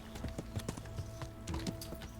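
Horse hooves in the video game Kingdom Come: Deliverance, a steady, rhythmic clip-clop of a running horse at moderate distance, with a faint tonal hum underneath.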